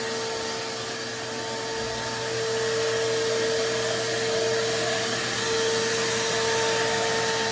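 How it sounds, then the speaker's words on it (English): A household vacuum cleaner runs steadily while a house is being cleaned, a constant whining motor drone with a slight swell in loudness midway, heard alone and fairly close. "I know Kevin and Becky's got to be kicking their heels up that I'm vacuuming the house."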